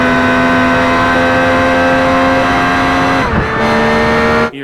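A race car in Project Gotham Racing 4 accelerating in another car's slipstream, a loud sustained engine drone with steady tones that briefly breaks as it shifts gear and then climbs again.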